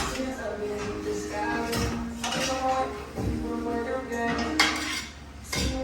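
Metal utensil scraping and clinking against a pan while black pepper is stirred into a sizzling fajita-style fusion dish, with repeated scrapes and taps close up, partly under background talk.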